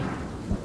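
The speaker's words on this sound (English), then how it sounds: "The storm that swept through Brisbane, concentrating itself on Wollongabba and on the cricket ground." A fierce thunderstorm sweeps over the Brisbane cricket ground at the Gabba, heard as a brief low rumble of thunder with rain noise, loud and without voices.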